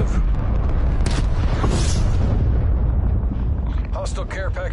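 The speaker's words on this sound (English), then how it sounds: "Enemy cruise missile launch detected." A cruise missile strike in Call of Duty Cold War lands as a deep, rumbling boom that swells and rolls on for several seconds, with a few crackling bursts near the end.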